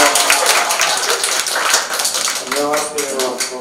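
Applause from a small crowd at a Sewol ferry disaster memorial gathering in Gyeongju: dense, steady clapping close by, with voices talking over it toward the end.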